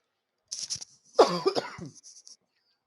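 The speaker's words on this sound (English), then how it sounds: "The Twitch coughs have started." A short burst of coughing, close and fairly loud, a couple of quick coughs followed by a rougher, throaty one, then silence.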